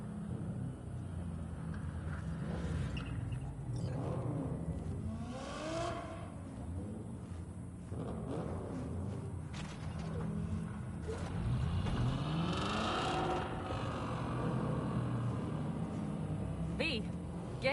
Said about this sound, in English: Start your engines, folks.